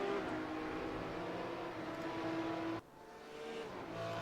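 Porsche Cup race cars at Zandvoort roar past in close formation, a loud sustained engine drone that drops abruptly partway through, then builds again as another car approaches, with no voices.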